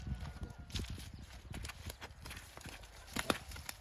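A mare's hooves clip-clop at a walking pace, a steady run of close, irregular knocks over low rumbling background.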